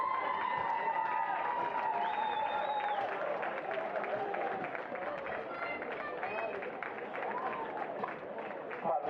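A rugby crowd claps and cheers steadily at a grand final as a team captain is welcomed, the applause sustained and dense throughout with an announcer's voice carrying over it.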